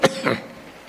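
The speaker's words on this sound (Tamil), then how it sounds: "ஆமெனுக்கு பிறகு இருமல் வருது." A single sharp cough from a person during a New Year church service, one short burst followed by a quieter throat-clearing rasp, close and fairly loud, then fading into room tone.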